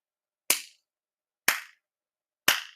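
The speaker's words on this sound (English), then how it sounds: "I'm still clapping after saying that" Three sharp, isolated hand claps spaced evenly about a second apart, crisp and close with short decays and silence between them.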